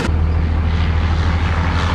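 Loud, low engine drone of a military drone aircraft landing close by at Jalalabad air base, a steady rumbling roar with a brief thump at the start.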